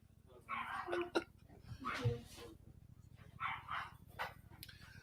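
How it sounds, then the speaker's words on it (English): A dog gives a few short barks and yips in a home, fairly close, with people talking over and between them. "There's the dog."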